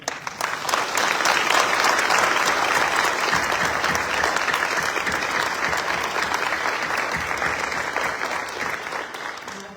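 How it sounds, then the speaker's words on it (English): Sustained applause from an evening scholarship award ceremony audience honoring board members and volunteers, a dense steady clapping crowd lasting the whole stretch and fading slightly toward the end. "Let's give them a round of applause"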